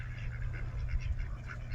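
A duck gives a short run of repeated nasal quacks, fairly close, over a steady low rumble of background noise.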